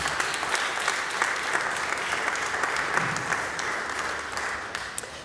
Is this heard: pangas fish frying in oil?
no